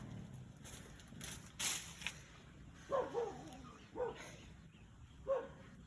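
A dog barks somewhere in the distance outdoors, giving a handful of faint, spaced yips and barks over quiet background hiss.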